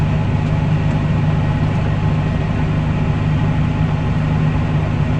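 A tractor's engine idles in a steady, continuous low drone with an even hum, close and constant throughout, with no talk over it.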